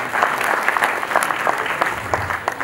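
Audience clapping for the artists at the Latipura Shakotsav gathering, a dense, even patter of many hands close by, steady for the whole stretch with no voices on top.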